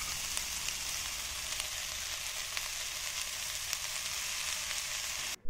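Carrots and cabbage fry in a pan with a continuous, even sizzle and faint stirring scrapes, ending in a short clunk.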